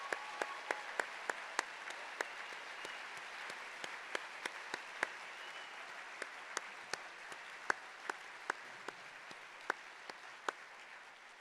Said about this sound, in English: please join me in giving tonight's musicians, Jake O'Rourke and Daniel Woodruff of the Desert Music Project, a big round of applause